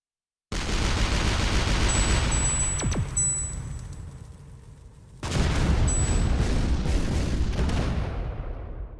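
A triple bounder artillery shot in the ShellShock Live video game booms out, then a second heavy blast follows about halfway through. Each impact lands loud and rumbling before slowly decaying, with a few high whistling tones overhead.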